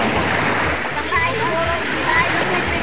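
Strong waves break and wash along a beach in a steady roaring surge, loud and close, with voices speaking faintly under the water noise.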